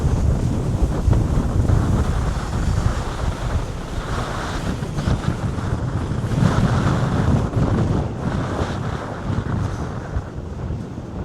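Strong seaside wind at a roller coaster on the Morey's Piers boardwalk buffets the microphone in a constant loud roar, with low rumbling gusts and surf-like rushing that never lets up.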